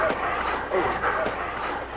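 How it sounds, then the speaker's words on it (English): Sled dogs bark and yip in short bursts, a few yaps spread over two seconds, under a voice talking over them. "We thanked the dogs for giving us a great ride."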